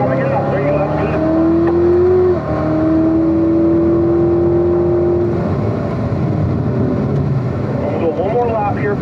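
A Chevrolet Corvette C7 ZR1 accelerates hard on a race track, its engine note rising in a loud, close, sustained climb through the gears with brief pitch drops at shifts; an instructor talks over it.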